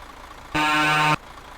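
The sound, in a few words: truck horns sounding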